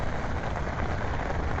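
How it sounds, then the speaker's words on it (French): Steady rain falls in an even hiss with a dense patter of drops on surfaces, constant and close, with no voices. "Eh ben il pleut."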